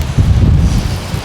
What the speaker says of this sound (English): Yeah, that wind is no joke.